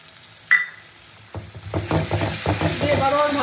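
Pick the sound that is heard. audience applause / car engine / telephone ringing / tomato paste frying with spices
tomato paste frying with spices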